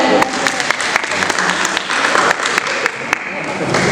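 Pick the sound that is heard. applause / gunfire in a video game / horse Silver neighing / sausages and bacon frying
applause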